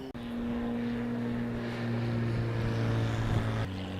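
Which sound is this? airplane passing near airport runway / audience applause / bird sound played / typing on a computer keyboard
airplane passing near airport runway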